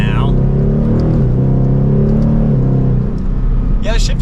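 A Ford Mustang GT Premium with its Coyote V8 accelerates from inside the cabin, a steady loud low rumble rising and settling in pitch as the engine pulls through a gear change, with a brief voice at the end.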